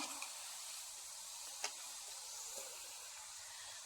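Jackfruit seeds frying a little at a time in a pan, a soft, faint continuous sizzle with one brief sharp tick partway through, no voices.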